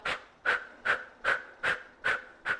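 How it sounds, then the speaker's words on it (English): Seven sharp, forceful exhales from a rhythmic breathing exercise come in an even pulse about every 0.4 seconds, with quiet passive inhales between them, close and clear. "It's an active exhale and a passive inhale."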